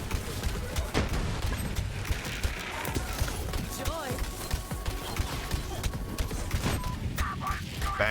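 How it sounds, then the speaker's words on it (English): Rapid gunfire from Borderlands 3, with a glitch that makes ricocheting projectiles multiply, crackling in dense bursts and booms throughout while someone talks over it. "it's spawning 3 projectiles every time it's ricocheting off something"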